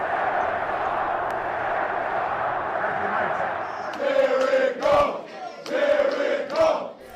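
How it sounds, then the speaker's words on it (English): A packed stadium crowd at Ford Field rings out as a broad steady roar, then swells into rhythmic chanting in repeated loud surges, with a commentator's voice faintly over it. "The Jared Goff chants breaking out, of course, at Ford Field"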